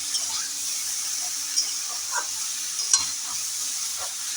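Vegetables fry in a pan with panch phoron, the five-spice tempering, for a Bengali pui metuli dish, giving a steady close sizzle with a few soft stirring clicks and scrapes and no one speaking.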